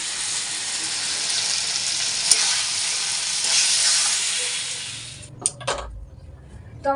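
Egg curry frying and being stirred in a pan, a loud steady sizzle with occasional spoon scrapes that stops near the end, giving way to a few clinks and brief quiet sounds.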